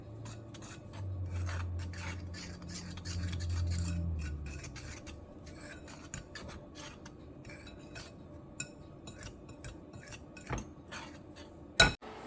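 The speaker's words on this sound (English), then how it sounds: "And then I'm going to stir this all together" A spoon stirs a seasoned braised beef short rib mixture in a bowl, producing close, repeated rasping scrapes and rubs with occasional light metallic clinks and a sharp knock near the end.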